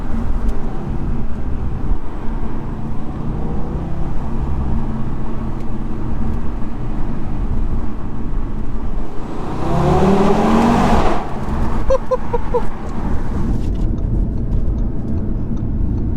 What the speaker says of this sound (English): there's so many different noises this car makes as well. You get whistles, pops, barks.